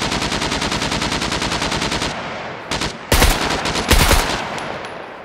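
Gunfire aimed at a car in the video game SCUM: a fast, steady burst of automatic fire for about two seconds, then a pause and a few louder, separate single shots, close and sharp with no talking.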